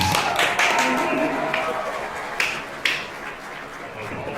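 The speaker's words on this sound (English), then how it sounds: "y'all give Dazz Lyons a round of applause" Crowd applause for a speaker addressing young people: a moderate wash of clapping from a gathered audience that gradually thins, with a few sharper claps and some voices mixed in.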